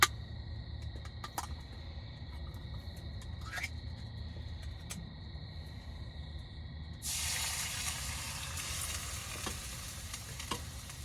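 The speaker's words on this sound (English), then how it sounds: "It has been sitting there for just a few minutes and it has already begun to sizzle." Chicken noodle soup sizzles in a pot over a campfire, a soft steady crackle with scattered pops that grows brighter and louder partway through.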